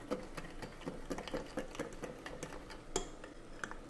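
A whisk or spoon clicks rapidly against a bowl while flan batter of banana, cinnamon, vanilla, eggs and sugar is vigorously mixed, a quiet, steady patter of light taps up close.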